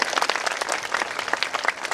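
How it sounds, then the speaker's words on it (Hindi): An audience at a Hindu religious discourse (Shrimad Bhagwat Katha) in Ballia breaks into sustained, dense applause, a steady wash of many hands clapping close by. "आप लोग सब लोग तालियों से एक बार सेवा दे दीजिए"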